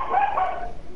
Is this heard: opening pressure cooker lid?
no